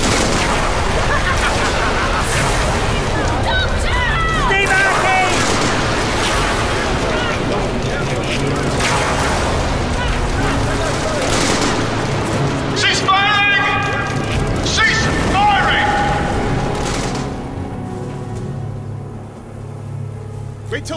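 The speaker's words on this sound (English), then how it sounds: "All units, open fire!" A soldiers' gunfire volley in an audio drama, a dense rumbling barrage of shots under loud voices and shouting, with the firing easing off toward the end.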